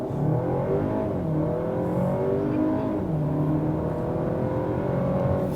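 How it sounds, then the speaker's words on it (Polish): Skoda Superb 2.0 TSI 4x4 pulling away hard from a standstill at an intersection, its engine note climbing steadily and loudly through the revs with no talk over it. "Stoimy na skrzyżowaniu i po prostu chcemy szybko ruszyć bez żadnej tam procedury startu."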